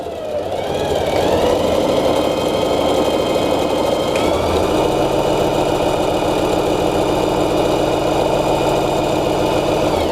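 A Singer Heavy Duty 4432 sewing machine runs a straight stitch, with a loud, steady motor whir and fast needle vibration that hold continuously and close by.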